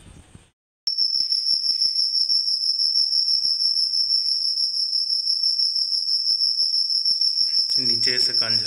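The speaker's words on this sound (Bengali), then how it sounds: "এটা কি ডাকছে, ঝিঝি পোকা আটকে গেছে কোথাও।" A cricket trapped somewhere in a garden chirps loudly and steadily, a shrill continuous trill that starts abruptly and runs throughout, with faint rustling and a brief burst of noise near the end.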